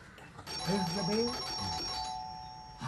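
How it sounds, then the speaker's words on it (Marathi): A doorbell rings, a sustained electronic chime held for a couple of seconds while a voice speaks over it at close range. "press the bell"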